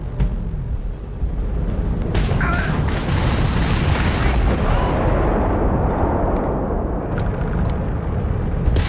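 Spaceship weapons and explosions in a Starfield ship battle: a sharp blast opens, then a loud sustained roar of fire and booms swells and fades, with several crisp shots near the end.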